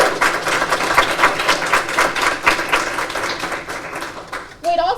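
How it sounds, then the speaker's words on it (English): Applause at a spring pinning ceremony, a crowd clapping in a brisk irregular patter for several seconds before a voice starts speaking at the end. "give them a round of applause."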